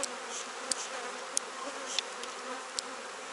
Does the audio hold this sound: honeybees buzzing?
yes